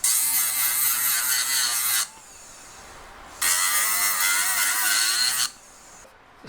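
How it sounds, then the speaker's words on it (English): Rotary cutting disc grinding metal off a three-stone pendant, two loud high-pitched whining bursts of a few seconds each, separated by a quieter pause. "I've got quite a lot of metal to take away off this one, so I thought I'd show you this disc in action"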